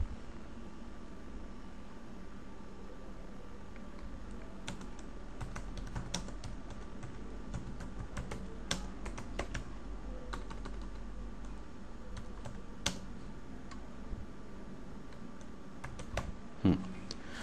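Fingers tap steadily on a computer keyboard while a service description is typed, a long run of quiet, uneven clicks with brief pauses and no speech.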